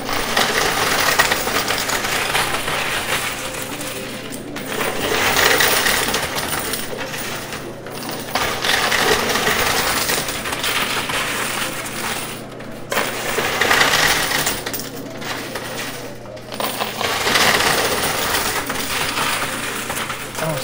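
An arcade coin pusher machine shoves coins off its shelf in a steady, continuous metallic clatter and jingle, loud and close, swelling and easing in waves over about twenty seconds with no voices.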